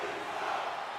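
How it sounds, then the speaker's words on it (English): A hockey arena crowd in NHL 25 roars in a broad, steady wash of cheering, dense and sustained across the whole moment without clear individual voices. "You can feel the energy in this crowd."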